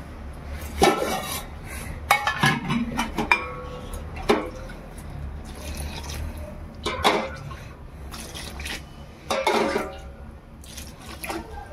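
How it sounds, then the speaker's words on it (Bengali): Clinks of a utensil against a pot and a brief splash as water goes into a pot of kabuli chickpeas, with scattered knocks and clatter close by and no voices. "এবার আমি জল দিয়ে দেবো।"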